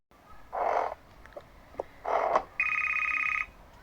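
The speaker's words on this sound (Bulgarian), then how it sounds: "Кой ми звъни?" A mobile phone rings with an incoming call: a steady electronic ringtone at close range, following a few short rustles and clicks, with no talking.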